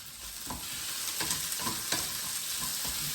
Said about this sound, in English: Now I'm just going to let that saute until it goes nice and soft.